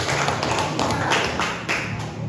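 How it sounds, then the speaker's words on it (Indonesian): A class of students in an Indonesian school lesson applauds a classmate with a brief, close burst of many hands clapping that lasts about two seconds. "Beri tepuk tangan kepada Atika."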